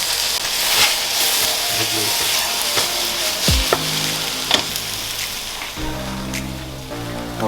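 Vegetables with shiitake mushrooms and pak choi stir-frying in a hot pan, a constant loud sizzle with occasional clinks and knocks of utensils and a brief spoken voice in the background.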